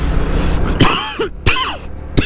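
A person sick with fever coughs hard several times in a row, close and loud, with short rough bursts and brief pauses between them.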